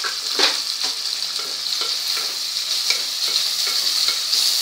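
Sliced onion going into a pan of hot oil with fresh red chillies and curry leaves for harbara bhat, a steady close sizzle and frying crackle with occasional stirring scrapes, no voices.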